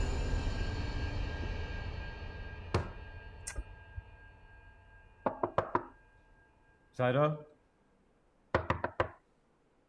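Sharp knocks on a door land in short clusters of two to four raps over a quiet room, with a voice speaking between them.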